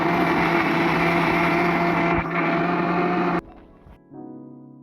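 Electric grinder whirring loudly as it blends green chilies, ginger and mint leaves into a paste, a steady close motor drone that cuts off abruptly, followed by a short quieter spin-down.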